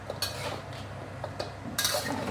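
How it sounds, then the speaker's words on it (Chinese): Pork trotters stir-fried in a wok over low heat, a metal spatula scraping and clinking against the pan a few times, with a soft sizzle underneath. "这样炒慢慢火，不可以大火。"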